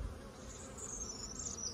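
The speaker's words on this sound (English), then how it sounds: "So this is bees returning with pollen." Bees return to the hive carrying pollen, giving a steady, close insect buzz with a rising and falling whine as individuals fly past, and no voices.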